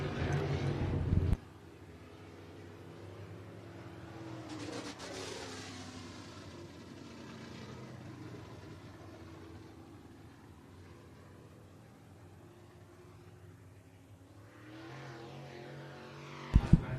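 Race cars run on the Golden Isle Speedway track in Waynesville, Georgia: faint, distant engine noise rises and fades as cars pass, with wind buffeting and a short loud burst at the start and end.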